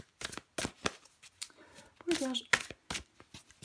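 Tarot cards being shuffled and drawn during a card reading, a series of short crisp riffles and flicks with a few slaps, close up, while someone speaks briefly between them.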